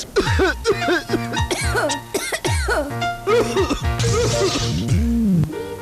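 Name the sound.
coughing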